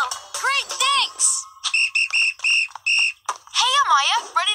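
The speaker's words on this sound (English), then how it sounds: "We found the whistle." A whistle in a children's cartoon sounds several short, shrill, steady blasts in a row, with animated voices chattering before and after.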